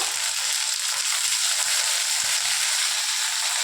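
Ginger paste hitting hot oil in a pan for a home egg curry, an even, close hissing sizzle that holds steady with a few faint stirring taps underneath.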